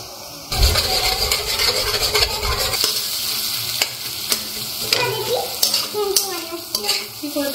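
Eggs hitting onions already frying in butter in a pan, a loud sizzle breaking out and continuing with steady stirring and scraping, a few clinks of utensil on pan near the end.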